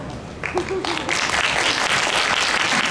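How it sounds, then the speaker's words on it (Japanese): A crowd at a police and fire department event in Osaka applauds steadily, the clapping swelling after a brief quieter start and holding loud and dense, with faint voices mixed underneath. "温かい拍手をありがとうございます"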